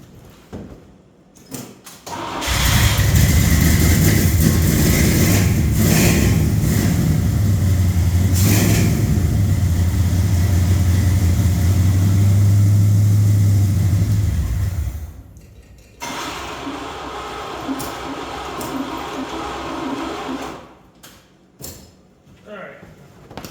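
An International Travelette truck engine cranks loudly and close for about twelve seconds without catching, its fuel pump not pumping, then a quieter mechanical whirring continues before fading.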